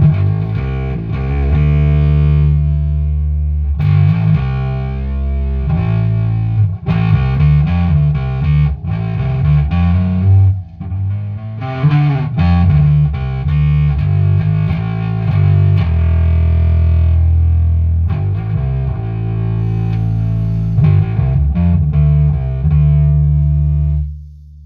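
Heavily distorted guitar runs through a full-on filter effect, with dense sustained chords whose tone sweeps and shifts steadily for about twenty-five seconds, loud and continuous with no talking.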